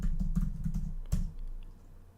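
Command being typed on a computer keyboard, a quick run of close, clicky keystrokes in an irregular rhythm with a louder keypress near the middle, then quieter room tone.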